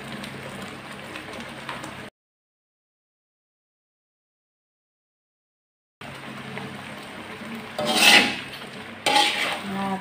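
Shrimp go into a pan of blended chili paste and coconut milk cooked until fairly dry, giving busy sizzling and scraping, then a gap of silence, then louder bursts of frying hiss and utensil clatter.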